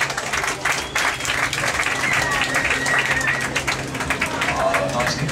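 A crowd at a wet-surface motorcycle freestyle stunt show claps and cheers in a steady, dense wash of applause, moderately loud and continuous.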